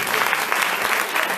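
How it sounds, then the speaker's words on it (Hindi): Audience at a Srimad Bhagwatam religious discourse in Delhi clapping enthusiastically, a brisk, dense, steady round of applause from a gathered crowd, close and fairly loud. "जोरदार आप लोग तालियां"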